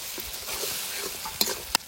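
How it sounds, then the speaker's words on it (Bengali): Tomato paste frying in a pan while being stirred, a soft steady sizzle with scraping stir sounds and two sharp clicks of a utensil against the pan near the end. "এবার টমেটো বাটাটা দিয়ে দেবো, একটু ভালো করে ভেজে নেবো।"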